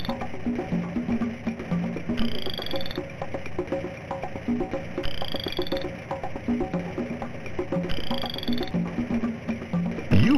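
Red-eyed tree frogs croak in a cartoon jungle in the 2007 Jakks Pacific Go Diego Go! TV game. The croaks repeat steadily for about ten seconds under rhythmic game chirps, with no voices.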